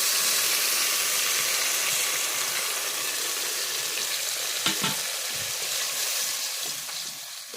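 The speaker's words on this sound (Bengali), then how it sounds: "এখন মশলাটা ভাজা ভাজা করবো।" Spice paste frying in a pan for goat head curry, a loud continuous hissing sizzle with occasional stirring scrapes, close up and alone.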